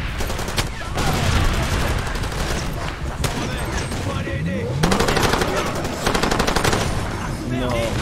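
A gunfire exchange in the video game Far Cry 2, played at the highest difficulty, with sustained machine-gun bursts and scattered shots over game ambience, steady and fairly loud throughout.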